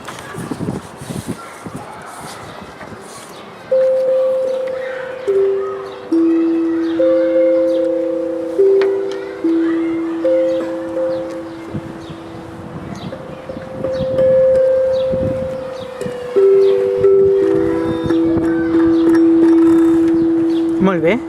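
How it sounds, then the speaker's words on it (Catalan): A gong struck to signal the end of a group scavenger-hunt game, with long sustained metallic tones repeating and overlapping over several seconds, loud and ringing, amid background voices and activity. "es tocava el gong per advertir a tots els grups que la gincana s'havia acabat"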